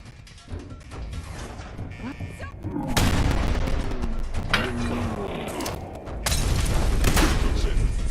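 A hostile robot in Fallout 4 fires rapid bursts of gunfire, with heavy booms, crashes and mechanical clatter in loud overlapping volleys that intensify partway through.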